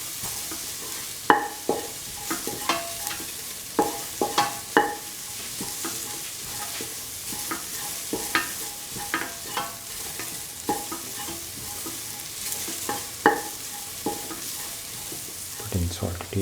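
Potato and spice mixture with garam masala stirred in a frying pan, a spoon scraping in steady uneven strokes over a soft continuous sizzle, close and clear with no talking.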